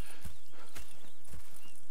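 Horse hooves in the video game Red Dead Redemption 2, a rhythmic clip-clop of several close, loud steps at a walking pace, with a faint whinny-like tone in the background.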